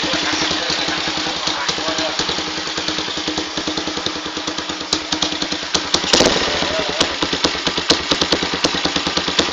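An original, unmodified Honda Sonic motorcycle engine idles close up with a fast, even chugging pulse, its steady beat swelling briefly once partway through.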